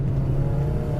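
Toyota 4AGE engine fitted with 100mm intake trumpets, holding a steady loud rev with a strong low drone throughout a short burst, no voices.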